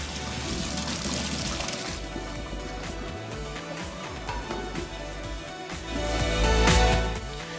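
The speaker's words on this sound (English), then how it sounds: "so now I am straining my noodles" Cooked macaroni noodles being drained into a colander, giving a steady rushing pour of water throughout that swells louder near the end.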